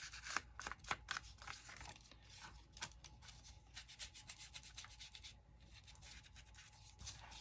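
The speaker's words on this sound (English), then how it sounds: "I'm just going to quickly ink it up." A paper piece for a slim craft journal being inked up, heard as a close, soft, continuous rubbing and scratching, quiet and steady throughout.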